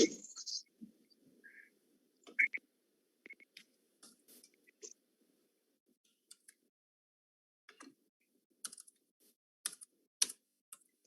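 Sparse clicks of a computer keyboard as an ID and password are entered, quiet and close, coming in short irregular bursts with gaps, while a voice murmurs faintly now and then.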